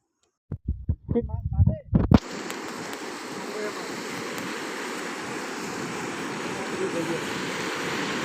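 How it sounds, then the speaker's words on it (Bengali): Sea waves at Cox's Bazar beach, a loud continuous rushing surf roar that sets in after a few seconds of brief thumps and voices, then holds steady and close to the end. "পানির শব্দ কি ভয়াবহ"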